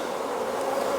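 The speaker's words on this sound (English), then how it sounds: "So these aren't the friendliest of bees." Honey bees droning steadily around an open brood box during a comb change, a dense, continuous close buzz of many insects with no pauses or voices.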